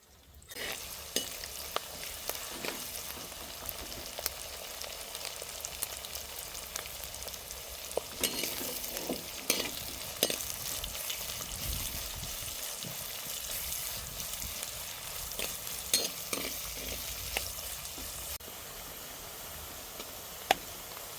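Onions and chopped green chilies frying in a pan for a mushroom curry, a continuous sizzle with intermittent stirring clicks and scrapes, growing louder partway through, without any talking.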